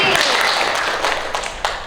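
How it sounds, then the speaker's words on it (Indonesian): A classroom group claps for a student named Anggi, a brief, loud burst of applause that carries on steadily and fades slightly at the end. "Oke, tepuk tangan buat Anggi."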